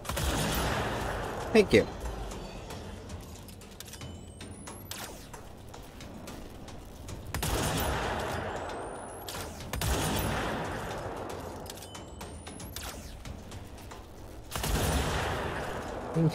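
Bursts of video game gunfire from a favored in-game gun crack out in several separated loud volleys over a steady rumbling background, with brief speech heard.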